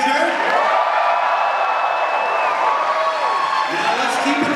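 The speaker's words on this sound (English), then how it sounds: "where's my round of applause for Michael Tabor" A convention crowd at a Power Rangers panel claps and cheers with scattered whoops and whistles, a sustained, fairly loud wash of applause.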